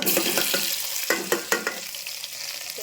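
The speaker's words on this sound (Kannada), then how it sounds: "ಜೀರಿಗೆ ಸಾಸಿವೆ ಚಟಪಟ" Cumin and mustard seeds spatter and crackle in hot oil, a steady sizzle broken by a few sharp pops, close up.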